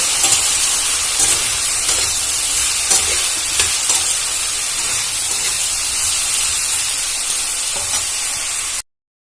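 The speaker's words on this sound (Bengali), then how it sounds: "দিয়ে এটা ভালো করে নাড়াচাড়া করে ভালো করে ভেজে নেব" Vegetables being stirred and fried with added salt in a pan for a bitter gourd chorchori, a loud continuous sizzle with scraping stir strokes close by and no voices.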